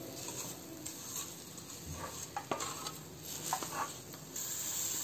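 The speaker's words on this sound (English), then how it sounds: "Now mix it." Spoon stirring a mixture with badam powder in a pan, soft scraping and patter with faint sizzling, close and quiet throughout, no voices.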